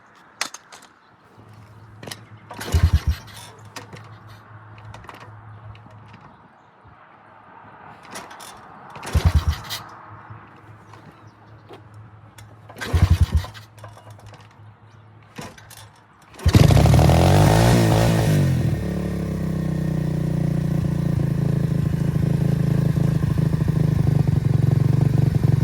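A blue motorcycle with a temperamental choke and throttle sputters through several failed cranks, then catches and settles into a loud, steady close idle that keeps running to the end.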